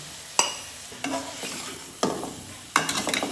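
Taro stolons going into a pan of frying spices and dried fish, with a few sharp scraping stirs and brief sizzles spaced out over a few seconds, close and moderately loud.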